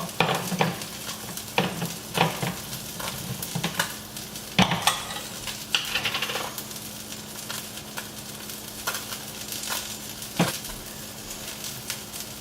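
Tomatillo and double-roasted tomato salsa sizzles softly in a pan while being stirred, with intermittent scraping and utensil knocks over a low, steady hiss.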